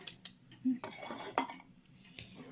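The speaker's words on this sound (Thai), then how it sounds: "ก็ต้องใช้ไม้พาย กวาดขึ้นมาจ้ะ" Spatula scraping oily banana cake batter up from a bowl, a few short close scrapes and a light clink, fairly quiet.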